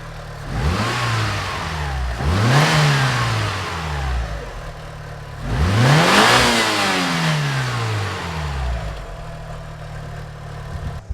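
A turbocharged Mitsubishi Lancer Evolution V engine idles, then revs up sharply three times, each rev rising in pitch and falling back to a steady idle, close by, with little turbo or blow-off valve noise.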